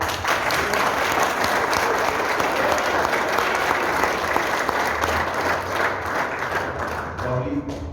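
Crowd at a Mahindra dealer event in South Africa applauds loudly and steadily, a full roar of many clapping hands that thins slightly near the end, with faint voices beneath.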